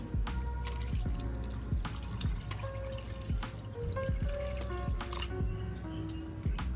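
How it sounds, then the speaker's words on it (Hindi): Water is poured from a glass into a cooking pot for a mutton karahi with garlic and ginger, giving splashing and dripping sounds in a busy, uneven rhythm, close by and with no talking. "ये तकरीबन जो है 4 गिलास पानी है जो मैंने डाल दिया है।"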